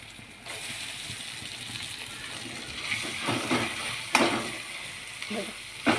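Boiled goat brain drops into a hot spiced pan and is sautéed, giving a soft steady sizzle with louder scraping and stirring bursts near the end, close by.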